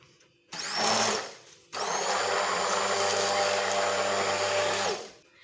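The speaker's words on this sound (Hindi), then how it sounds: "अब हम इसको ब्लेंड कर देंगे" An electric blender beats eggs, oil and sugar for a chocolate cake batter, whirring loudly in two bursts: a short run, a brief pause, then a longer steady drone that winds down.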